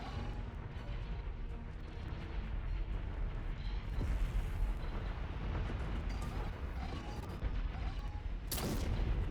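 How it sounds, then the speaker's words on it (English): Star Destroyer turbolasers pounding defensive platforms in a Star Wars space battle, a dense rumbling wall of blasts and explosions rolling continuously, with a sharper burst near the end. "its turbo lasers blasting apart the final defensive platforms"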